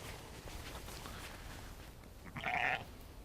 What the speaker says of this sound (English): I take these sheep out to graze specific areas at specific times of the year